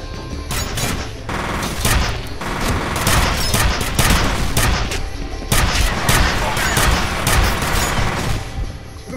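Rapid bursts of gunfire in the shooter game F.E.A.R., loud and dense, with overlapping shots and booms repeating throughout.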